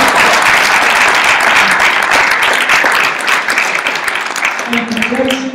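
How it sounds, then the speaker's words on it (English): Loud, dense applause from an audience at a Urantia Foundation gathering, a steady wash of many hands clapping close by that thins toward the end, with voices faintly mixed in. "There's clapping"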